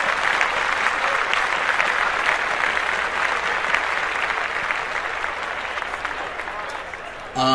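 Sustained clapping from a small group on a podcast, steady and moderately loud, gradually easing before a sudden louder sound at the very end.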